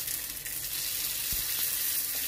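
A steady, close sizzle of rice paper chips frying in hot vegetable oil in a small pan, with a faint soft thump partway through and no talking.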